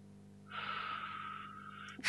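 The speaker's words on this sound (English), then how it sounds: "Deep breathing." Someone takes one slow, deep breath close to a microphone during a gaming session, a steady airy rush lasting about one and a half seconds after a quiet start, with no talking.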